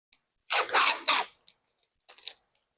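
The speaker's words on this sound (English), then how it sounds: "Hopefully y'all don't hear me chewing and stuff because I done turned my mic up." Someone chews crunchy food right at a microphone, giving a quick cluster of three loud crunches followed by a few fainter bites and small mouth sounds in otherwise quiet surroundings.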